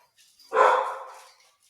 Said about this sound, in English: We are also recording with 4 dogs in the house